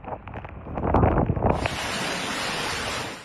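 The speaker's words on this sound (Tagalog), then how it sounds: "Sa lakas ng hangin at ulan," Super Typhoon Nando's roaring wind buffets the microphone in Basco, Batanes, while heavy rain and gusts hiss steadily, a loud broadband rush that swells and then holds constant.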